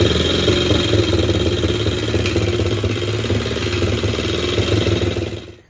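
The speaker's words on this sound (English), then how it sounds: "So I finally got this idling correctly where it starts every try." A Coolster 125cc engine idles steadily up close, a rapid, even putter with mechanical clatter, running alone before cutting off at the end.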